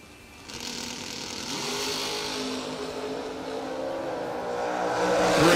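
Race car accelerating on a Long Beach, Mississippi racetrack, engine note rising steadily and growing louder over several seconds, with no talk.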